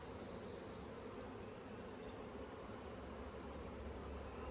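Honey bees humming at a hive just after a mated queen is introduced, a thick, even buzz close by that carries on unbroken with nobody speaking.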